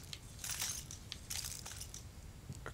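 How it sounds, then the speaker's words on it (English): Glass crunching underfoot in the horror game Layers of Fear, a few gritty, crackling bursts of footsteps on shards over a low ambient rumble, with no talking. "Oh, I stepped on glass."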